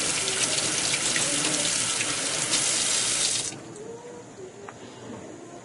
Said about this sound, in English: run it over in cold water to remove any excess stuff that was shaken off from the ultrasonic shaker